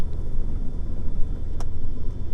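A Beechcraft Bonanza F33A rolls on the ground under braking, heard from the cabin as a steady, loud low rumble and engine drone with no talk over it.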